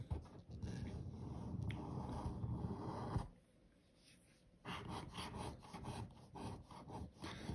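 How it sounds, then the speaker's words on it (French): A coin or fingernail scratching across an FDJ Ticket d'Or lottery scratch card, a close dry rasping rub in steady bursts that pauses briefly midway before resuming. "maintenant je gratte le ticket 23"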